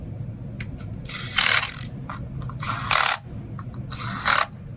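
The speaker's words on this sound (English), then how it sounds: "And the bolts. And tighten them up." A ratchet tightens the ignition coil bolts on a Lexus RX350, giving quick clicking strokes and three louder bursts of rapid ratcheting over a low background rumble.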